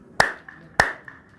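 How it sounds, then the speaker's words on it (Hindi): Two sharp hand claps ring out inside Golkonda Fort in Hyderabad, each followed by a short, fainter echo off the stone walls. The claps are evenly spaced about half a second apart. "अभी हम यहाँ से ताली बजाएंगे"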